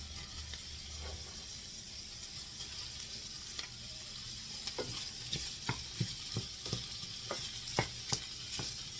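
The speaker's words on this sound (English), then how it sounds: "Now put in your kielbasa and saute it for about 2 minutes" Kielbasa sausage sautéing in a pan, a low constant sizzle and hiss with irregular stirring clicks and scrapes that grow sharper and more frequent in the second half, close up and fairly quiet.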